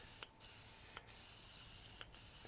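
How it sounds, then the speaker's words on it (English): Short bursts from an aerosol spray can of fiberglass tub and shower floor repair coating, three brief hissing sprays about a second apart, close and fairly loud with pauses between them. "don't be shaking it back and forth while you're trying to spray it"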